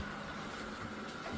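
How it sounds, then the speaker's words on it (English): A low, steady whirring hum from a compact 3000 Pa robot vacuum and mop unit working indoors, fairly quiet and constant with no talk over it. "Another great thing about this vacuum is it's not too loud."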